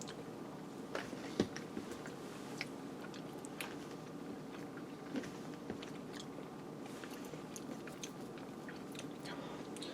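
Someone chews a mouthful of taco tot casserole with ground beef, enchilada sauce, cheese and corn, giving close, wet, crunchy bites and steady mastication without talking.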